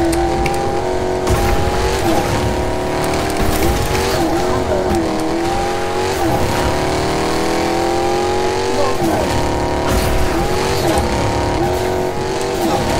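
A car in the Fortnite video game drives hard with a loud, continuous engine drone that rises and falls as it revs. Repeated tire squeals and skids break through the engine noise.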